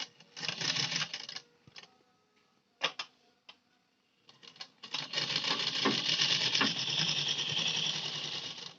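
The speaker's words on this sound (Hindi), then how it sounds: "ऐसे में फोल्ड करके सिलाई लगाऊंगी काज पट्टी की।" A sewing machine stitches a folded button placket on a blouse in quick mechanical runs, first a short burst, then scattered clicks, then a long steady rattling stretch close up with no talk.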